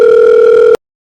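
A phone line gives a single loud, steady electronic ringing tone that holds for under a second and then cuts off abruptly into silence.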